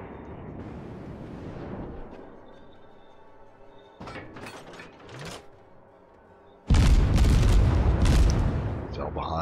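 Warship guns firing in World of Warships, several deep booming salvos with sharp cracks, the heaviest blast arriving near the end and rumbling on, loud and close over low ship ambience, with someone talking in places.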